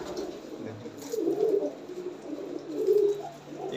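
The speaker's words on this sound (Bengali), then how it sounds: "এগুলো সবই কিন্তু খেলা পায়রা।" Fancy lotan pigeons with heavily feathered feet cooing nearby in a loft, soft rolling coos rising and falling in two or three bursts over a low background hum.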